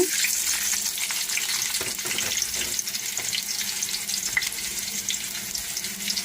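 Chopped onion and tomato frying in a pan for capsicum thokku, a dense continuous sizzle with soft scraping stir strokes, close and steady throughout.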